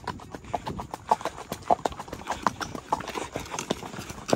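Horse hooves clip-clopping during a horseback ride: steady, close, rhythmic hoof beats over a constant background rumble, with no talking.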